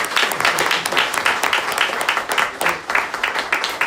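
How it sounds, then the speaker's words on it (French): Audience clapping at a public meeting, a continuous crackle of hands at moderate volume with slight swells and dips throughout. "je voudrais une bonne main d'applaudissement"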